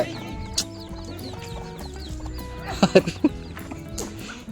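A chicken clucks in short bursts amid busy outdoor background noise, with a few louder sharp calls near the middle.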